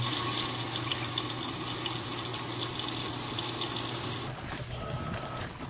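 Water pours into an Electrolux Dual Filtro Turbo Max 8 kg washing machine at a low fill level, a steady rushing splash heard close and without talk, shifting tone near the end.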